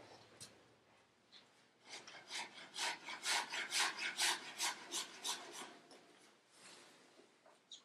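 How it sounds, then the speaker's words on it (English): A hand scraper rasps across wood while building a document chest, starting with a few soft strokes, then a run of loud, rhythmic, close scraping strokes that taper off again. "Take my little scraper."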